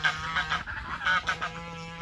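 Farm geese honk loudly in a steady run of harsh, nasal calls, several birds overlapping close by with no pauses.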